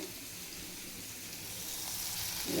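Green chillies frying in a pan for a North Karnataka chutney, a steady soft hissing sizzle that builds slightly louder toward the end, close and alone without talk.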